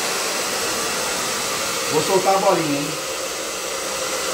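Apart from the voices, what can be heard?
hair dryer running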